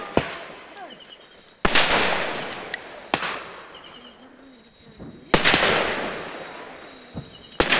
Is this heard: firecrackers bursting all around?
yes